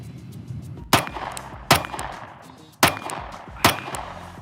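A compact Glock G43X pistol fired four times at uneven intervals, each a sharp, loud crack with a short ringing decay, close by and with no talking between shots.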